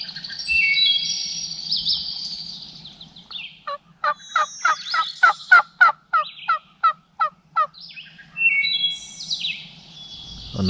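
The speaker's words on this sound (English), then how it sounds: "Another gobbler had gotten fired up in the distance and started gobbling pretty good" A wild turkey gobbler gobbles from afar in a Wisconsin field, a rapid burst of about a dozen sharp, rhythmic notes, with chirpy bird calls before and after.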